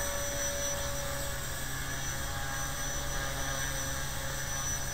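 An HK250 RC helicopter flies with a constant, high-pitched electric whine and rotor hum, steady and moderately near throughout with no talking.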